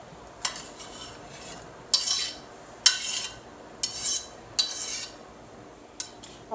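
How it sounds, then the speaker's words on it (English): Onions and peppers are stirred in a pot in a home kitchen, with a sharp clack of the utensil against the pot about every second over a faint sizzle, and no voices. "we're just going to put our onions and peppers in the pot"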